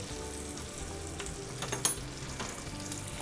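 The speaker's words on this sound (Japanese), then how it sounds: "焼いていくとどんどんバターが焦がしバターになってくるので" Steak fries in melted, browning butter in a pan, a steady close sizzle with a few sharper spits and crackles as the fat is spooned over.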